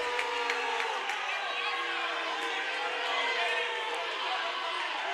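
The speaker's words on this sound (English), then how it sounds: "Crowd not too happy with that call." A basketball crowd in a gym at a high school regional semifinal murmurs and grumbles in a dense, steady wash of voices after a referee's call, with a few scattered shouts.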